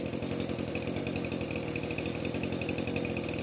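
An Echo SRM 2620 two-stroke string trimmer engine runs at a steady, buzzing idle, fairly faint and continuous with no voices.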